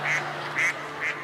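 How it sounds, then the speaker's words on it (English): Three evenly spaced nasal duck quacks ring out as a sound effect during a comedy magic act on a talent-show stage, each short and loud over a steady low hum. "David, you are a duck."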